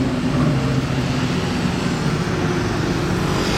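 A Ferrari Competizione Aperta drives by in a Monaco historic Grand Prix rally, giving a continuous broad engine roar and traffic rumble at close range, steady in level with a slight rise toward the end.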